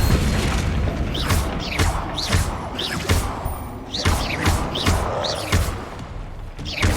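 Repeated booming blasts from the Bombarda spell in the wizarding game Hogwarts Legacy land in a steady rhythm, about ten heavy thuds with crashing debris, loud and close.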